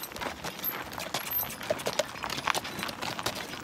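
A Clydesdale draft horse walks slowly, its hooves clip-clopping in a steady, fairly close rhythm over a faint background hiss, with no talking.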